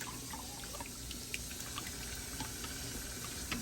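Hot water is poured onto instant potato flakes in a kitchen, a faint steady trickling pour that carries on quietly for a few seconds with no voices.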